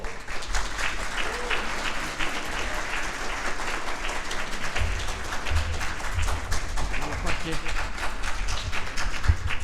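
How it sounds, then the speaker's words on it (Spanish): Audience applause at a book launch event in Santiago de Chile, dense continuous clapping that stays loud throughout, with some low thumps and faint voices mixed in. "Un aplauso, por favor."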